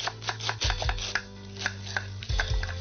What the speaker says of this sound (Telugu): క్యారెట్ తీసుకో. క్యారెట్ ఒకటేనా? ఓకే. సన్న కట్ చేయి, సన్నగరా.